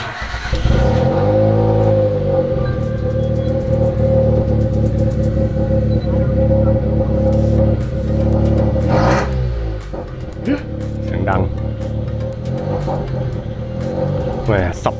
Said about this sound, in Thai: ก็โอเคสตาร์ทแล้วก็ฟังเสียงดูแล้ว